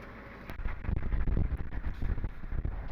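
Strong outdoor wind buffeting the microphone in low, rumbling gusts that rise and fall continuously, fairly quiet overall with no voices.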